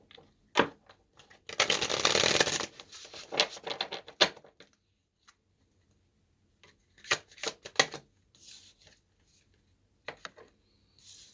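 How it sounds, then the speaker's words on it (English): Playing cards are shuffled in quick, crackling riffles, one long burst followed by shorter snaps and taps, close and fairly quiet. "Do one more shuffle and see where we go."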